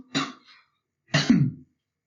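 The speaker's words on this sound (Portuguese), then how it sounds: "Não sei o que foi essa tosse." Two separate coughs about a second apart, each a short harsh burst, close and fairly loud, with silence around them.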